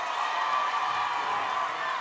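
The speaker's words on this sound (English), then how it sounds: "Crowd roars." A volleyball crowd in an East LA College gym roars after a point, making a dense, steady wash of cheering voices that stays loud and even throughout.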